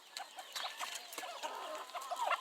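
Male turkeys sharing a pen and run give soft, scattered clucking and chortling calls, close by and fairly quiet, one after another with no pause.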